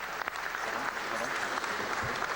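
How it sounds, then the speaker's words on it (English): Appreciative applause greets a visitor at Berlin's High Technology Forum, a continuous wash of many hands clapping from a sizable audience, moderately loud and even across the moment. "One is accustomed to appreciative applause, such as the welcome here at Berlin's High Technology Forum."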